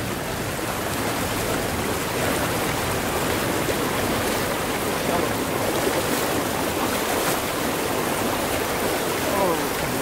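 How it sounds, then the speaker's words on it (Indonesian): Fast, shallow stream water rushes steadily and loudly over rocks near a harbor area, a dense continuous wash of splashing with no pauses. "ini deras banget ya airnya walaupun nggak terlalu dalam"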